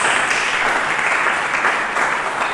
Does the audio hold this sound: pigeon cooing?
no